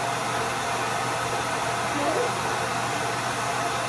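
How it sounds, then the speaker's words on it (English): A steady, loud whooshing of a hair dryer blowing continuously on a parrot, with a faint voice barely audible beneath it. "I blow dry him every now and again"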